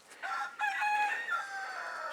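Chickens call from a backyard garden coop in a run of short, bright, tuneful clucks and squawks, fairly close and with no one talking.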